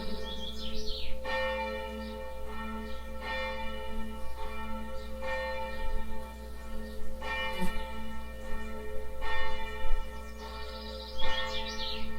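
Church bells ring in Agonac in a slow, repeating pattern of resonant strikes, their tones hanging in the air, with faint birdsong chirping in the background.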